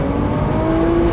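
A Nissan GT-R accelerates hard from a standstill toward 100 km/h, its engine a loud, steady roar that climbs in pitch across about a second.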